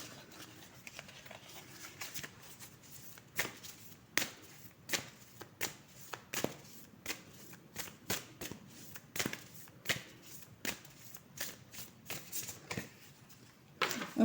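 A deck of oracle cards is shuffled by hand in a quiet room, giving a series of soft, crisp riffling bursts at irregular intervals, close and alone.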